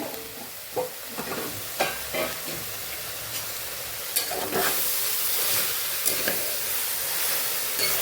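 Grated carrots sautéing for halwa in a pressure cooker, a steady sizzle with scraping stir strokes at irregular intervals, close and fairly loud, no voices.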